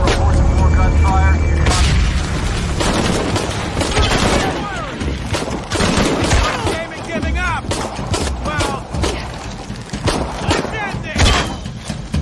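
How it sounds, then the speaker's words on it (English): Gunfire and heavy booms from the video game Shadow of the Tomb Raider come in loud repeated bursts, dense with thuds and impacts, with game voices shouting over the fighting. "Confirm reports of more gunfire."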